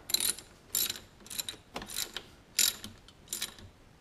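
Bolts on a 50cc scooter big bore kit are snugged down with a hand ratchet in a star pattern, giving six distinct bursts of close, crisp pawl clicking separated by short pauses.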